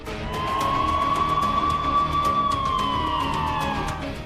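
An ambulance siren sounds while carrying a critically ill student from Coimbatore toward Chennai: a loud, steady, wavering wail that holds for the whole stretch, with no voices over it.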